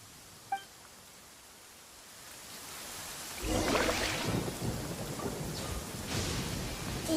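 Thunder rumbles in the Genshin Impact game world, first a faint quiet stretch with a small click, then a deep rolling swell that settles into a steady wash of heavy rain and low storm noise, with no talk.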